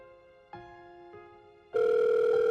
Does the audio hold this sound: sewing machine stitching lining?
no